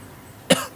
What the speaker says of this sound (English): We're gonna cut all the coughing